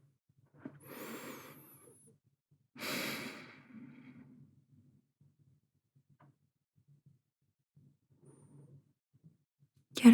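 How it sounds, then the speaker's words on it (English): Two slow, deep breaths close to the microphone, a long airy inhale followed by a softer sighing exhale, then near silence with faint small sounds and a brief noise at the very end. "Taking full, deep breaths."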